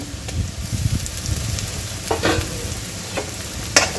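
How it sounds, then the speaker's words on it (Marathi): Ginger garlic paste sizzles and crackles in a pan with frying onions, a steady close frying hiss with a few stirring scrapes and clinks. "आता याच्यामध्ये आपण अद्रक लसूणची पेस्ट टाकून द्यायची आहे"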